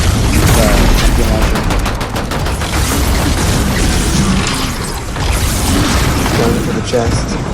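A drum gun fires in a video game: loud, dense bursts of rapid gunfire with mechanical clatter and booms that sound close and continue almost without a break.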